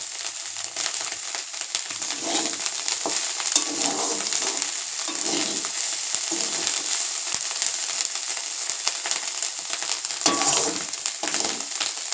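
Small shrimp pakoras fry in hot oil with a steady, close sizzle, while occasional stirring adds soft crunchy scrapes over twelve seconds without any talking.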